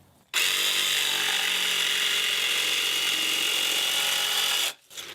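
Metabo HPT jigsaw on its most aggressive setting, cutting wood in one loud, steady buzzing run of about four seconds that starts abruptly and stops sharply, close up, no voices.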